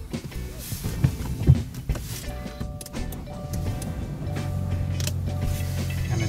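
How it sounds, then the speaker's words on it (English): A 2021 Subaru Crosstrek starts up after some clicks and shuffling, its engine then settling into a steady low idle close by. "And then I'm going to turn the car on just to make sure everything's working."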